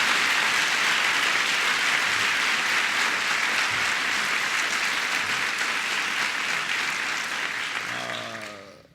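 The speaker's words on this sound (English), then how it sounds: "So please give Kathleen Sebelius a big round of applause." An audience at the National Institutes of Health applauds Kathleen Sebelius, a thick, continuous roar of clapping that stays steady for several seconds before fading out as a voice begins at the very end.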